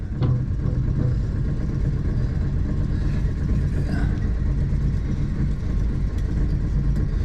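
A fuel-injected outboard on a 2025 North River 23 Seahawk boat runs steadily just after starting, a smooth, continuous mid-low engine drone heard close by with no talking over it.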